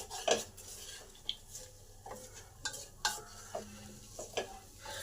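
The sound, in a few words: stirring potato curry in a pan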